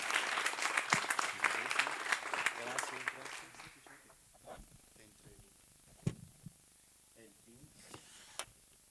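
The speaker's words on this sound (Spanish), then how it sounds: "un fuerte aplauso por favor para Jason" Forum attendees at a community and social-outreach leadership event give Jason a loud round of applause. The clapping is strongest at first, fades out after a few seconds, and leaves only scattered faint claps and noises.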